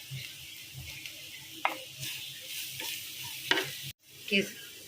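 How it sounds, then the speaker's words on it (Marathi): Thecha, a chili paste, roasts in a pan with a soft sizzle while a spoon stirs and scrapes it in intermittent strokes, close and fairly quiet. "आपले हा ठेचा चांगला थोडा लाल हो द्यायचा तोपर्यंत भाजायचा"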